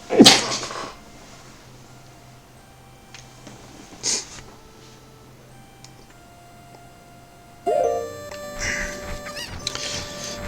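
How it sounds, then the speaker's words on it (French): A single sharp human sneeze bursts out at the start, followed by quieter game sounds, faint ticks and a few later clicks and chimes. "J'ai envie d'éternuer."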